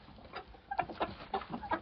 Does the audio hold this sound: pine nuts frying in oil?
no